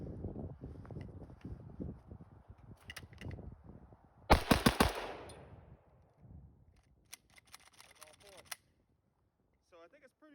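An AKM rifle that has been exposed to snow fires a loud burst of several sharp shots outdoors, with wind noise and voices before and after.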